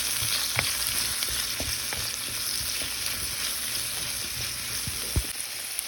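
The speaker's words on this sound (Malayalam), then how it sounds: "ഒരു അര സ്പൂണ് പെരുംജീരകം ഇട്ട് കൊടുത്ത് നമുക്കിതൊന്ന് വഴറ്റിയെടുക്കാതെ." Garlic, tomato, two pieces of cinnamon and half a spoon of fennel seeds sauté in a hot pan. A steady close sizzle runs throughout, with a few soft stirring clicks and no voices.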